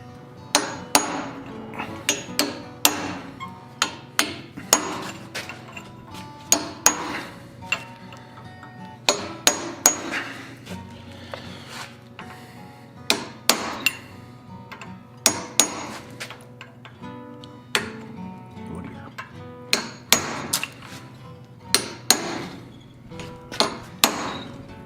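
A hammer strikes a chisel on cold steel while forging a sculpted Viking head of Odin, ringing in sharp, close, metallic blows repeated irregularly in quick clusters over a low background hum.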